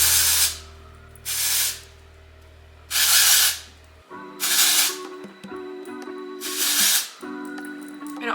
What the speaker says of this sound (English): for dry shampoo, I'm gonna use the Amika Perk Up Dry Shampoo. And I'm just gonna spray this.